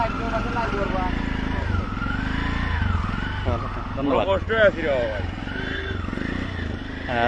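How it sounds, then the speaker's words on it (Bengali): Motorcycle engines on a broken riverside road cut by river erosion, a steady nearby drone with slight revving beneath ongoing conversation between people. "মোটরসাইকেল নিয়ে যারা যাচ্ছেন অত্যন্ত ঝুঁকিতে আছেন"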